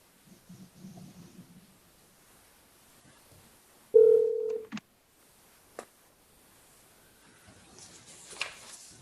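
A telephone number is dialed on an office phone during an appraisal review board hearing, giving one short, loud burst of tone that stops abruptly, followed by a few faint clicks and quiet room noise.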